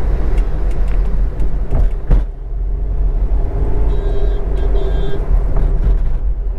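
A car cruising in third gear at around 30 to 40 km/h through slow city traffic in a narrow lane gives a steady, close engine and road rumble with a few brief thumps and faint high beeps.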